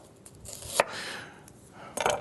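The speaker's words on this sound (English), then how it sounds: "we're going to take about 3/4 of a fresh onion, and we're going to slice it relatively thin" A knife slices a fresh onion thinly on a cutting board, a few sharp, crisp cuts and taps spaced irregularly against a quiet kitchen background.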